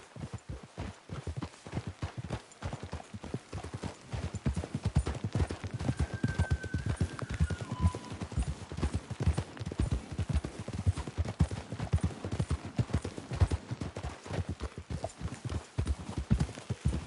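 Horses galloping in the video game Red Dead Redemption 2: steady, rapid hoofbeats run throughout, loud and close, with a brief faint whinny partway through.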